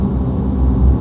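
Engines of a DHC-4 Caribou at full throttle in a flight simulator give a dense, loud, steady low roar that fills a brief moment with no voice.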